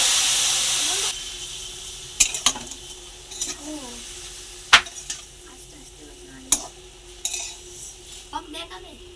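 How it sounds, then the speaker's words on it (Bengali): Vermicelli is stirred in a pan while sugar syrup is added, beginning with a loud steaming hiss that fades out, then settling into sharp, irregular metal clinks and scrapes against the pan. "আর আমি নাড়বো"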